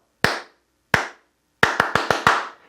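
A pair of hands claps back a ti-ka-ti-ka rhythm during a classroom dictation exercise, two slow separate claps followed by five faster ones, sharp and near in an otherwise quiet room.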